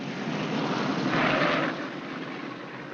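A World War II bomber aircraft roars in for a rough landing, a loud, steady broadband engine drone that swells in the middle and eases slightly toward the end, heard alone.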